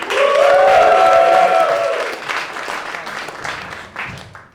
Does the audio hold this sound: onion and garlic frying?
no